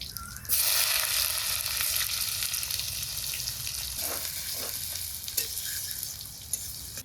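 Chopped onions sizzle in hot oil with bay leaf, dried chili, cumin and garam masala in a pan, a steady close frying hiss with a few stirring scrapes, no voices.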